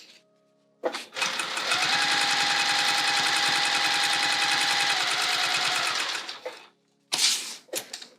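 A sewing machine runs steadily through vinyl bag material in one long, continuous, rapid stitching burst lasting about six seconds, close and loud, followed by a short second burst.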